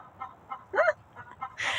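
Chickens give a few short squawking clucks, with one louder call in the middle and a burst at the end, fairly faint against a quiet indoor background.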